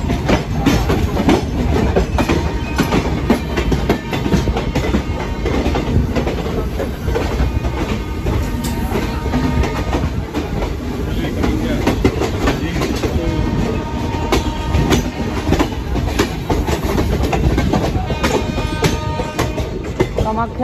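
The Kamakhya-Katra Express rolls past at close range, its wheels clattering rhythmically over rail joints in a loud, continuous rush with metallic rattles and faint squeals.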